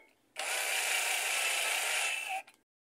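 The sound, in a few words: tightening screws on Admiral/Maytag washing machine plate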